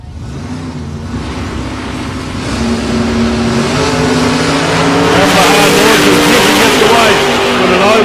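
Drag racing cars, a Cortina and a Celica, at South Coast Raceway, loud engines droning and revving, building in intensity as they launch, under a commentator talking.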